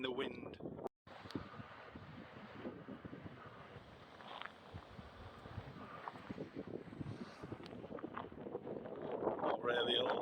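Wind gusts across the Algarve coast, buffeting the microphone with rough broadband rumble and rushing noise throughout, while people talk underneath.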